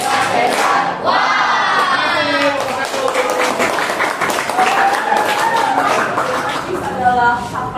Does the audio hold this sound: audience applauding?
yes